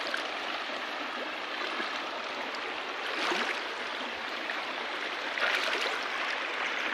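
A strong stream current rushes in a steady, dense broadband roar, close and continuous, with no voices over it.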